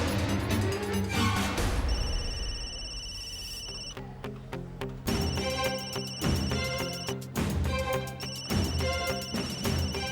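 A phone ringtone for an incoming call plays loud and melodic, a repeating electronic tune in bursts that pause briefly and then resume, with a dramatic musical passage before it.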